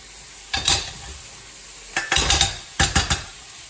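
A spoon scrapes and clatters through turkey mince stir fry with sweetcorn in a pan, in three quick bursts of stirring separated by short pauses, close and fairly loud over a faint sizzle.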